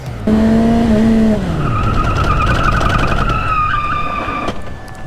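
A wheel skids as both brakes are clamped on at once, with a loud tyre squeal that bends downward, then a drawn-out scraping, rising whine that fades toward the end, close to the microphone.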